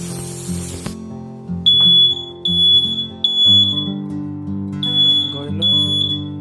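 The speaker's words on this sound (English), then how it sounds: "Today we're gonna test this smoke detector" A smoke detector under test gives loud, high-pitched electronic beeps in repeated bursts over an intermittent hum and low tonal sounds, with a brief noisy burst at the start.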